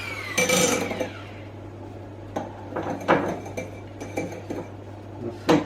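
Butter being worked into bread dough in a bowl for a keto loaf, heard as scattered scraping and clinking knocks of a utensil against the bowl, one busier burst early then sparse irregular taps, close and fairly quiet.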